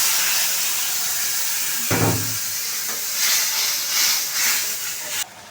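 Water hits a hot pan of spiced tengra fish curry with a loud steady hiss and sizzle, a thump partway through and brief swells of bubbling before it cuts off.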